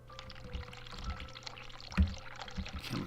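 Hot water runs from a tap in The Cat Lady video game, a quiet continuous pour with small splashes and a brief louder gush near the middle.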